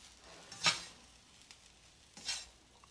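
Fried rice with soy sauce stirred in a pan, two quick scraping sizzles over a faint steady frying hiss.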